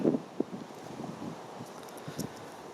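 Wind blows across Linnet Clough, a carp fishing lake, on an overcast, cold day, making a low, steady rumble with a few soft gusts and rustles, close to the microphone and with no voices.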